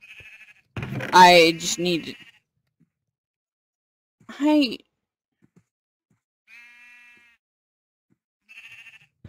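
Short, thin Minecraft sheep bleats sound at intervals in the video game, separated by silence. A person speaks in bursts between them.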